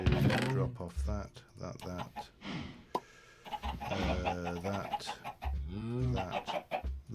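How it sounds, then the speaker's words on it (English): Chickens cluck and squawk loudly in the Coop Life video game, a dense, busy run of calls filling the whole stretch. "we can get away from the noise of those chickens"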